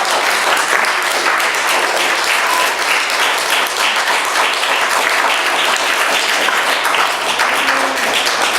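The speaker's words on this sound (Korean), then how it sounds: "그리고 한번 박수 좀 쳐봐요" Church congregation applauding, dense sustained clapping from many hands filling the room for several seconds, with no voices on top.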